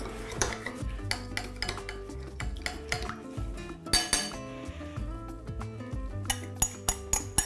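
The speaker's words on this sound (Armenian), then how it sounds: "Միասին խառնում ենք և սոուսը պատրաստ է" A utensil stirs lamb and quince sauce in a pan, with repeated close metallic clinks and scrapes against the pan in an uneven rhythm, some sharp strikes standing out, no talking.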